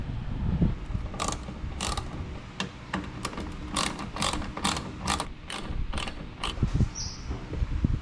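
Fasteners being removed from a mud flap on a 2024 Toyota Tacoma, a series of quick ratcheting clicks in short bursts, close and fairly loud.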